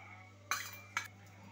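A spoon clinks twice against a bowl while food colour is stirred into watermelon rind pieces, two sharp metallic taps close by over a steady low hum, with no talking.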